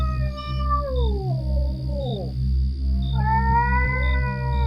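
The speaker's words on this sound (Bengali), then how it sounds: "বিড়ালটি হঠাৎ আগের মতো কান্নার সুরে ডাকতে শুরু করে।" A cat in a horror audio drama lets out two long, drawn-out meows in a mournful, crying tone, each one sliding downward in pitch, loud and close against a steady low drone.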